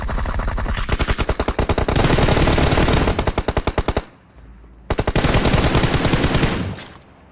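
Rapid automatic gunfire in Battlegrounds Mobile India rattles in loud, sustained bursts, pauses briefly, then resumes with another long rapid volley before cutting off.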